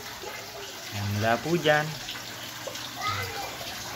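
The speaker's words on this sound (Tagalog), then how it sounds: "Ito po yung flow ng tubig niya, no?" Water flows steadily through a crayfish tank setup with a continuous hissing trickle, while a person talks over it in the foreground.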